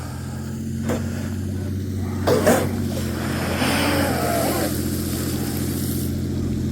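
A small motor hums steadily over water, its whine rising and falling as a 51-inch TFL Ariane twin-drive RC boat moves, with a few splashes and knocks along the way.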